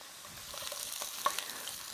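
Food frying in a hot pan, crisping rather than stewing, gives a steady close sizzle with soft crackles and one brief sharper pop, no voices.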